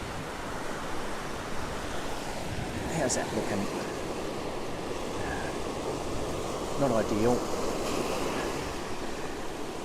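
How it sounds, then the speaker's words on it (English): Ocean surf washes out across a sandy beach in a steady broadband hiss with gentle swells of wash. Wind noise sits underneath, and two people exchange brief remarks partway through. "Okay, we'll get this one as the wave runs out."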